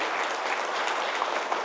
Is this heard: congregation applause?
yes